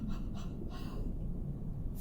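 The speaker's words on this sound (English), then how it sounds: "pant again like a hot dog and feel that open feeling" Rapid panting during a breathing exercise, with three or four quick breathy pants at the start, then fainter steady breathing, close and soft.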